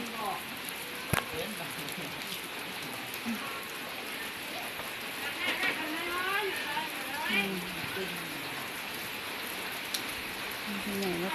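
Heavy rain from Storm Kajiki pours down steadily in Laos, with drops pattering on surfaces close by, while voices talk faintly underneath.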